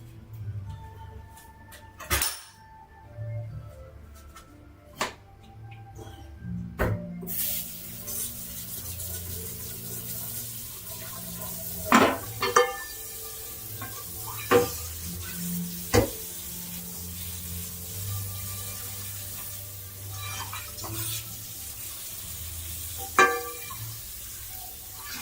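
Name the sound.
washing dishes and pans at the sink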